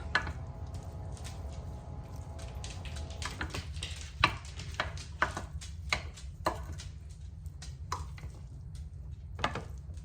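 Leftover pasta with garlic salt is stirred in a pan, a run of soft scraping and squishing stirs with irregular clicks of the utensil against the pan over a low sizzle, close and fairly quiet.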